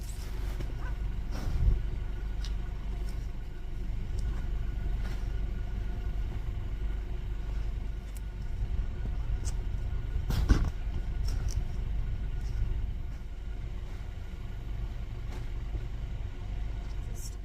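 Steady low road rumble from inside a moving car, continuous and fairly quiet throughout, with a few faint knocks and bumps and no talking.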